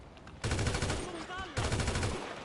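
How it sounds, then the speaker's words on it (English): Automatic gunfire in GTA V, two rapid bursts of close, loud shots about a second apart, with a brief voice between them. "I can shoot them, but they can't necessarily shoot me."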